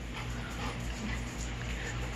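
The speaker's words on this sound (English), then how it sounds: "They're crazy dogs, aren't they, Nike?" Dogs whimpering and whining indoors, a short, close, continuous stretch of high, thin canine whines with faint underlying hum.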